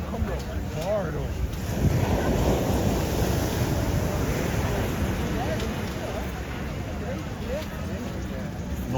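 Ocean waves break and wash onto the sand at Ipanema Beach in Rio de Janeiro, a broad steady surf roar with gusting wind noise, while people talk nearby throughout.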